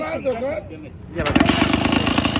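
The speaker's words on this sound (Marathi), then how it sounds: "ही किक मारल्यानंतर हा ट्रॅक्टर चालू होतो" A mini tractor fitted with an old motorcycle kick-starter sputters and catches after a kick, the engine then running in a rapid, loud pulsing chatter, with a voice speaking briefly at the start.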